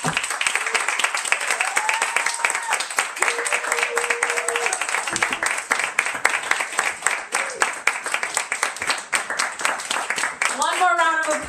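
Steady dense applause from a book launch audience in Los Angeles, continuous crisp clapping close to the microphone for several seconds, with scattered voices calling out and cheering over it.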